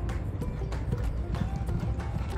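Horses trotting nearby, their hooves clip-clopping in a steady, busy rhythm under continuous rumbling background noise, with a voice occasionally talking over them.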